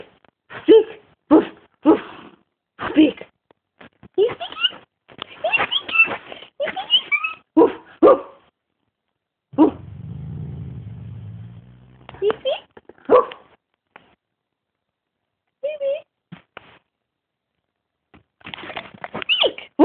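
A dog gives a series of short barks and yips in quick bursts, with a low growly whine in the middle and brief pauses between.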